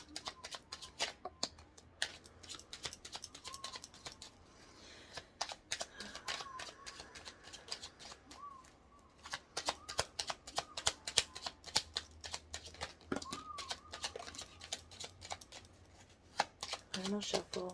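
Tarot cards shuffled by hand, a rapid run of dry papery riffles and flicks in uneven bursts that stop and start, close and moderately loud, with quiet talk in the background between bursts.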